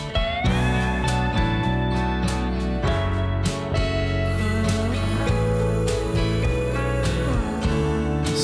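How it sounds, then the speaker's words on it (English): Slide guitar on the acoustic track of a song, gliding sustained notes and swooping pitch bends over steady strummed acoustic backing, full and continuous throughout. "Slide guitar."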